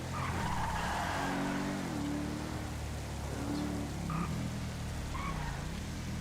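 Video-game car with rally suspension drifting and skidding, tires squealing in long sweeping pitches over a steady engine drone, continuous and close for several seconds.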